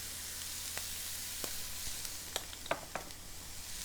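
Ground meat browning in a pan for chili, with a steady soft sizzle and a few light scraping stirs near the end.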